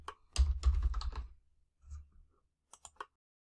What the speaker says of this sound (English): You can type the name of a location in to narrow the list.